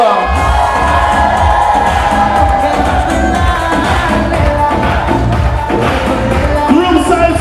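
A wedding reception crowd cheers and shouts for the groom's parents, a loud, sustained mix of voices and whoops with a steady low rumble underneath.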